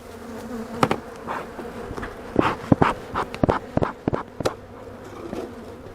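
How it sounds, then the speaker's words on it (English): Honey bees crowd around an open hive while supers are installed and a split is made, a dense steady buzz broken by sharp knocks and clicks from the hive boxes, fairly close. "Crazy bees."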